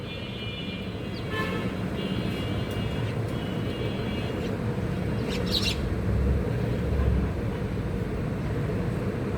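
Myna birds squabble over food, giving sharp scattered chirps and calls above a steady roar of city traffic or an aircraft overhead, fairly distant and intermittent.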